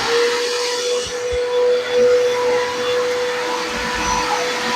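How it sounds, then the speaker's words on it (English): Shop vacuum running during drywall sanding, a loud steady whine and airy roar with a constant tone, continuous and close throughout. "So we turn on our shop vac."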